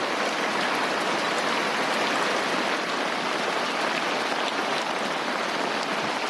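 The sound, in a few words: rain falling on a sailboat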